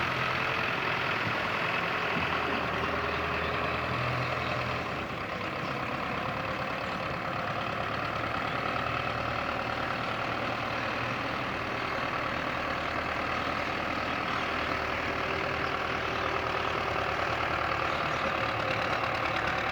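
A Belarus 510 tractor with a 4-cylinder 57 hp diesel engine ticks over at idle for a long stretch, a close, even rumble with a faint knocking texture and no talking.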